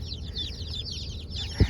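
A box of baby chicks peeps constantly, many high, quick chirps overlapping in a busy nearby chorus, with a low rumble beneath and a single soft thump near the end.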